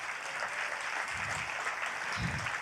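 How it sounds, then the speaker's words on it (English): Audience applause at a talk, a steady broadband wash of clapping running through the whole stretch with a couple of low thumps underneath. "so we applaud now"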